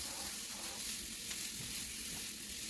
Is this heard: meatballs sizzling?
yes